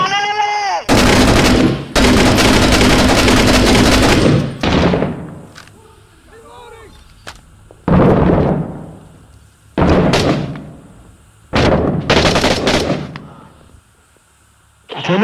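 Gunfire in the urban combat video game Six Days in Fallujah comes as loud bursts of shots separated by short gaps, with several people talking excitedly between and over the firing.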